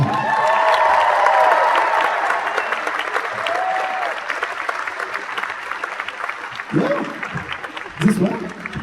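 Loud applause and cheering from a convention crowd at an actor panel in Toulouse, dense clapping throughout while a host speaks energetically over the noise.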